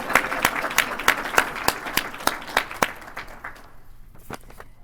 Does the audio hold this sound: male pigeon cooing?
no